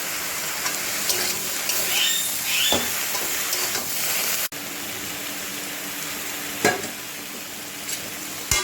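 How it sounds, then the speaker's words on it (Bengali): Vegetables, pumpkin stalks with prawns, are stirred in a pan with cumin and turmeric powder: a steady frying sizzle under repeated scraping stirs, with a few sharp knocks of the utensil against the pan and a sudden dip partway through. "তারপর দেবো একটু জিরের গুঁড়ো আর একটু সামান্য হলুদ গুঁড়ো দিয়ে আবারও ভালো করে নাড়াচাড়া করবো"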